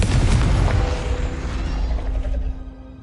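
A Confringo fire spell goes off in Hogwarts Legacy with a loud, booming blast, its rumbling body fading over about three seconds beneath a steady low hum.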